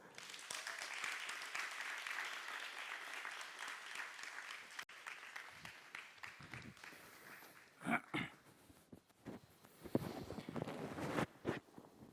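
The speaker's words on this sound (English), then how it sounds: "Ladies and gentlemen, please, with a huge round of applause, help me welcome Mr. Hugo Visser." Crowd applause, dense and steady at first, then thinning into scattered claps and a few louder bumps before picking up again, with faint voices.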